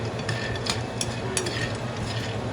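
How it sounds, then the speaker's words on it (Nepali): Spices being dry-roasted in a pan for sutkeri masala, a postpartum spice mix, with a continuous crackling sizzle and scraping stir strokes, close and steady, no voices. "भुट्दै हुनुहुन्छ? सबै भुट्नुपर्छ"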